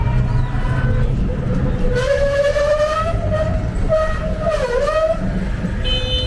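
A train at Agra railway station in India sounds a long horn with shifting pitch over a loud, steady rumble of rolling stock and station bustle.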